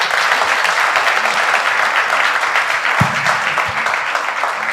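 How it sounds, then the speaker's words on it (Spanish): A church congregation applauding together, a dense and steady wash of clapping that fills the whole stretch at close, even loudness with no voices rising above it. "vamos a dar un aplauso a Dios por eso"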